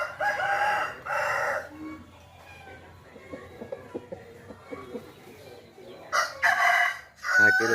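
A yellow-legged young rooster crows twice near the start and again near the end, loud and close, with soft clucks and rustling in the quiet stretch between.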